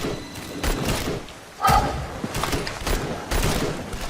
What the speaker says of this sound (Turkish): Silah sesleri.